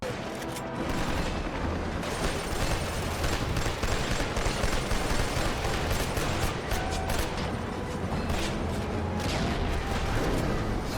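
Relentless gunfire from Killzone 2, a PlayStation 3 first-person shooter: dense automatic bursts and heavy booms blend into one continuous, loud barrage with no pauses.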